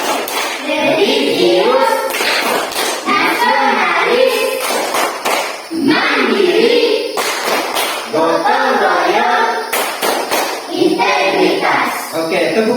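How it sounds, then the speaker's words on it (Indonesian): Children in an Indonesian classroom perform the PPK clap routine, rhythmic hand claps and taps alternating with chanted words, steady and loud throughout, with young voices reciting over the claps. "mari kita lakukan tepuk PPK"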